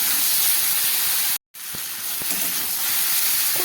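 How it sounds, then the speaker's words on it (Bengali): Spiced water hits a hot pan of taro stolon (kochur loti) being cooked, giving a steady loud hiss and sizzle with one brief cut partway through. "খুব সামান্য একটু মশলার জল আমি দিয়ে দিলাম"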